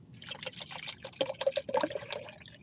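Water pours and trickles nearby in a short gurgling stream, rising in the middle and tapering off, with no voices.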